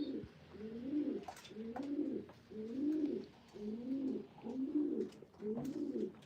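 Doğan çil pigeons coo in a steady series of about six soft, rounded calls repeating every second or so, close and clear without talk.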